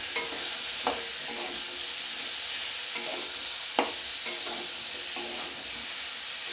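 Mixed vegetables frying over medium heat in a pan, a steady hiss of sizzling with periodic scrapes and taps from a spatula stirring them, close and fairly loud.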